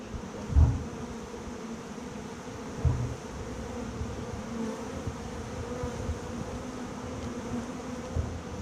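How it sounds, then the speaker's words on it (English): A steady, dense drone of many bees buzzing up close as they land on a box during a hive removal, with a couple of soft bumps and no voices. "You see how all the bees are starting to land on the box?"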